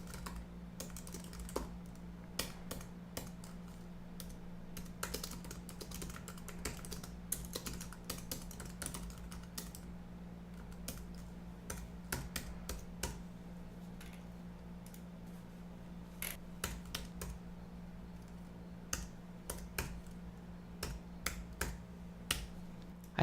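Billing details being typed on a computer keyboard, with quiet irregular key clicks in short bursts and pauses over a low steady hum, close and faint.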